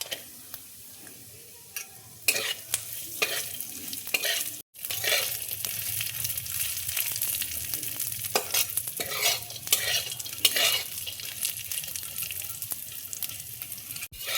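Besan for churma laddu fries in a pan with a low, steady sizzle. Scraping stirs and soft clinks of a spoon against the pan come at irregular moments, with a short break partway through.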